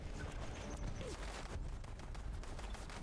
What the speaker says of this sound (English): Really, something's shooting at me?